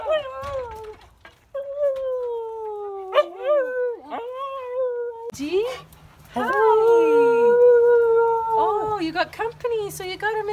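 Singing dogs at a wildlife rescue howl back and forth in long, wavering, siren-like tones, one voice then several overlapping, loud and close, with a low hum underneath.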